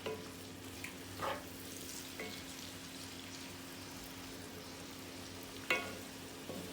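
Bean sprouts being mixed and cooked in a pan, a soft, continuous sizzle with a few scraping stirs and clinks on top, fairly quiet and without talk.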